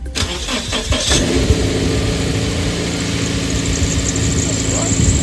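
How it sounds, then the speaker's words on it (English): A Subaru BRZ, jump-started with a jump pack, cranks briefly and fires up, then settles into a steady, close idle that continues evenly to the end. "After starting the engine with a jump pack, it sounded pretty okay"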